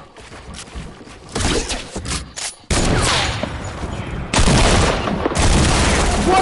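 Bursts of rapid video game gunfire, loud repeated volleys separated by short gaps, with a voice faintly underneath.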